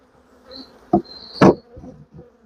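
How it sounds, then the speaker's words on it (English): Honey bees hum around an opened hive outdoors in the rain, with a steady buzzing drone broken by a few louder close fly-bys and clunks of hive parts being handled. "now that I've got rid of all those stingy bees"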